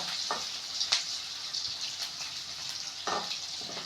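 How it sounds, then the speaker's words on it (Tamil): Onions sizzle and fry in a hot pan for a South Indian cabbage poriyal, a bright steady crackle with a few sharper spatters and a stirring scrape or two, fairly quiet and with no voices. "ஸோ வெங்காயத்தை நல்லா வதக்கிக்கோங்க"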